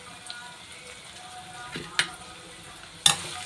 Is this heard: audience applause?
no